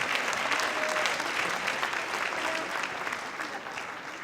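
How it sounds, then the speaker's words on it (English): An audience applauds scholars at a community event, steady dense clapping filling the room for several seconds at a moderate level, tapering slightly toward the end. "So I want to give our scholars a round of applause for their hard work."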